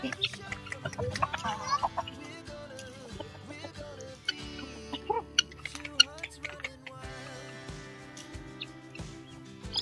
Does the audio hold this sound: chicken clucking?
yes